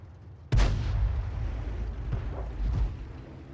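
A Hummel self-propelled artillery gun fires a shell in a tank video game, one sharp loud boom that rolls into a long rumbling tail with a smaller thud near the end.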